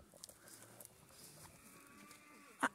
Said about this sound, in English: listen to the poor moo cows